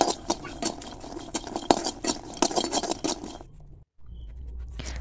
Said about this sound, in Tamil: பூண்டு ஒரு கைப்பிடி போட்டு அதுவும் நல்லா ஃப்ரை பண்ணி வச்சுக்கணும்.